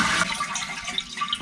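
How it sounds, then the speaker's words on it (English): A toilet flushes with its flapper held open so the tank keeps draining, a close rushing, gurgling swirl of water that surges strongly at first and then churns unevenly throughout. "Now we're going to flush the toilet, and we'll leave the flapper open"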